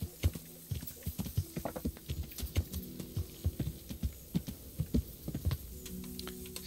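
Horse hooves clip-clopping in the video game Kingdom Come: Deliverance, a steady walking rhythm of soft distinct thuds, close and fairly quiet, alone without talk.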